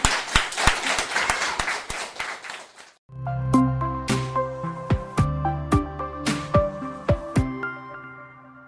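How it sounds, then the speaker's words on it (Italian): Sustained clapping from a school class of children at an interview event, dense and lively for about three seconds, then giving way to a clear melodic tune with sharp percussive accents. "Io farei un bel applauso per loro."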